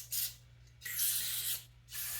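Carb cleaner sprayed over the grimy carburetor of a 1970 Kawasaki Bushmaster, with the side cover off, in three hissing bursts separated by short pauses, close and fairly loud over a low steady hum.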